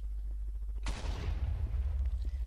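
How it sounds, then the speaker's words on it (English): A TNT block in a Minecraft-style video game goes off in a single sudden blast, a sharp loud crack that fades into a rumbling tail over a low constant background hum. "Explosion!"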